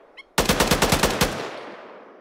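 Machine gun fire in a military squad training video game, a loud close burst of about ten rapid shots after a faint distant crack, trailing off in a long echoing decay.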